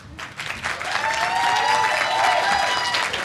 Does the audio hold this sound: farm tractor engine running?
no